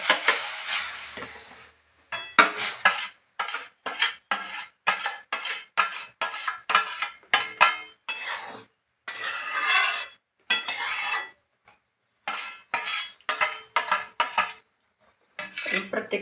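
Semolina sheera with cashews, almonds and cardamom being stirred in a pan: a steady run of rhythmic scraping and clinking strokes, close and fairly loud, with short pauses and no talk.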